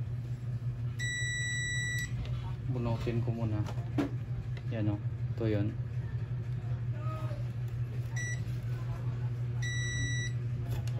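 A multimeter set to continuity gives a few short, sharp electronic beeps while a diode inside a Sharp Aquos 2T-C42DF1X TV is tested, sounding in brief bursts over a steady hum as someone talks.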